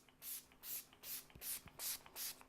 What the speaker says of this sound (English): I really want to see if it breaks up when applying a setting spray to it.